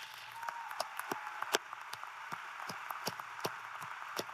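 Faint, distant clapping from a high school graduation audience, scattered sharp claps over a soft steady patter of a large crowd applauding.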